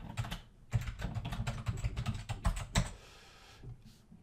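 Computer keyboard clacking as a login and password are typed in, a quick close run of keystrokes with a brief pause, then a few final taps.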